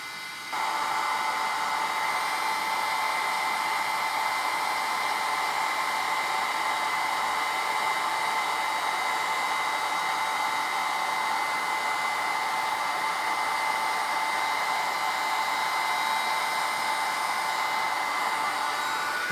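A handheld craft heat tool heat-sets embossing on a sea horse card with a steady, loud whirring blow that runs without a break for nearly twenty seconds, with no voices over it.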